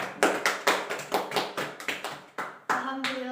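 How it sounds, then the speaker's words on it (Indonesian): A class claps for a winning group during a school lesson, with distinct, fairly synchronized rhythmic claps of a small group repeating about four times a second, then a voice begins as the clapping fades. "Tepuk tangan untuk kelompok 2."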